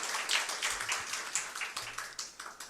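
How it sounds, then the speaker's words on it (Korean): Audience at a Seoul council forum on cable broadcasting gives a short burst of clapping, fairly faint and thin, a few scattered hands rather than a full roar. "관심 많으신 박성혁 의원님께 박수 한번 쳐주시죠."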